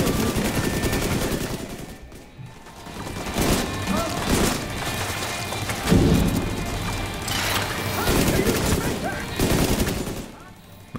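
Sustained gunfire from The Division 2 pours onto a turret as rapid bursts of shots and crashes. Volleys rise and fall with short lulls between them, busy and close throughout.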